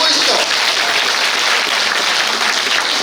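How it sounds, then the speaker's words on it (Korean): Audience applause at a party members' education meeting in Gimcheon, a dense, steady wash of clapping that fills the whole stretch with a voice mixed in. "처음 듣는 것처럼 박수도 막 해주시니까 너무 좋은 것 같아요."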